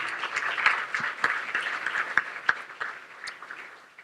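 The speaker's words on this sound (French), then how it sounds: "Oui, on peut les applaudir." A crowd at a Christmas brunch gathering applauds, a busy patter of many hands with a few sharper claps standing out, gradually fading toward the end.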